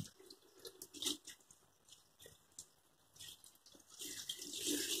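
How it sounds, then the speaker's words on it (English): Water is poured gently into a plant watering tray on a UK allotment in winter, making a faint, intermittent trickle with soft splashes that swell toward the end. "I'm just going to give them a little bit of water in the watering tray."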